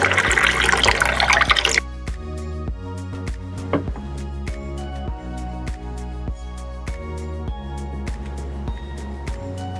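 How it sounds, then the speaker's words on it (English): A short rush of hand sanitizer pouring into an empty bottle for about two seconds, then it stops, leaving quieter rhythmic tapping in the background. "I'm taking my empty bottle and we're gonna pour"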